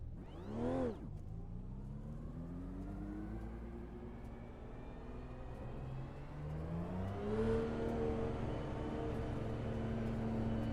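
Porsche GTE Pro race car engine in the Circuit de la Sarthe pit lane at Le Mans, a sharp blip, then a steady drone that rises through the gears as the car pulls away, heard from inside.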